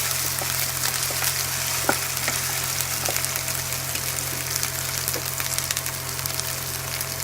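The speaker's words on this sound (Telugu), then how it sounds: "పచ్చిమిరపకాయలు వేసి వేయించుకోవాలి." Green chillies sizzling and frying in a pan, a steady close crackling hiss with scattered small pops over a low constant hum, no talking.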